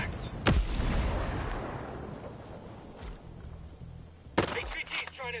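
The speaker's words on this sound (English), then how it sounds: "Gonna toss a grenade." A grenade blast in the tactical shooter Ghost Recon Breakpoint, loud and close with a long rumbling decay, followed a few seconds later by sharp bursts of gunfire with rattling debris.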